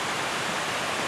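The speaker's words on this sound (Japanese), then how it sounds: "横川山の、おそらく一番でかい人工的な滝になるんではないかなと思います" A large artificial waterfall on Yokokawa mountain roars as a loud, steady, broadband rush of falling water heard close up, with no other sounds over it.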